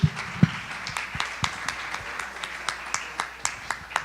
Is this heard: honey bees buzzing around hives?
no